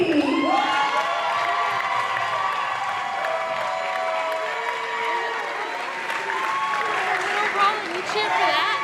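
A wrestling crowd at a Mission Pro Wrestling show cheers, whoops and applauds steadily through the whole stretch, dense and close. Shouts and scattered claps rise and swell near the end.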